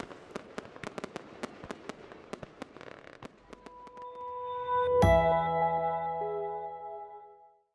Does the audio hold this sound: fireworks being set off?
yes